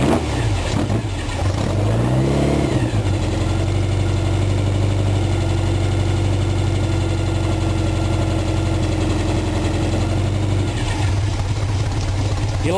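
An engine cranks and catches, then settles into a steady, loud, rumbling idle close by, with a low hum that holds constant for several seconds before the sound shifts near the end.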